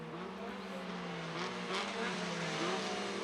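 SsangYong ute race cars roar down the long straight at Pukekohe, a loud, steady engine drone with slowly shifting pitch and no break across the clip.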